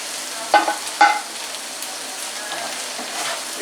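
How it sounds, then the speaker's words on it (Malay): Fried tempeh stirred into sambal in a pan: two sharp scraping clatters of a spatula over a constant close sizzle of frying oil. "Kemudian kita boleh masukkan tempe yang sudah kita goreng tadi."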